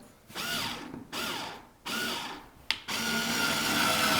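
An electric screwdriver driving a flathead screw whirs in several short bursts with brief pauses between them, then runs continuously at the end, close and loud.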